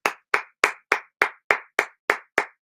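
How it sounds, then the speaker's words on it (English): Nine crisp, evenly spaced hand claps from one person, close and loud, spread across a few seconds with silence between each, during a breakdancing battle report livestream. "Let me give a round of applause"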